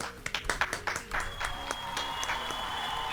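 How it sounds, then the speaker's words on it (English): Friendly clapping from a small crowd in a Pokémon battle game: a brief, scattered burst of claps that fades into a steady electronic tone. "Oh yeah, friendly claps."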